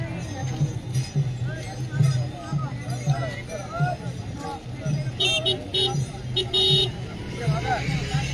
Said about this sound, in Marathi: बघा ही रिक्षा आलेली आहे.